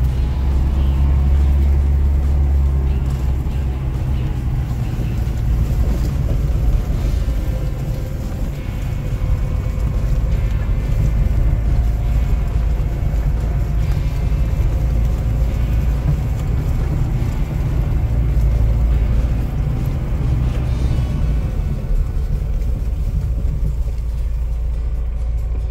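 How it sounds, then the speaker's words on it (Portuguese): Chevrolet S10 4x4 pickup engine running steadily in high range, a continuous loud low rumble throughout with no talk. "o motor como é que fica botando na alta"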